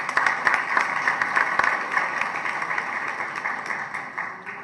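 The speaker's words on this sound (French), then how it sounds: "Félicitations, je vous prie de l'applaudir." An audience applauds a prize winner for a writing award, a moderate crowd clapping that stays fairly even and gradually tapers off.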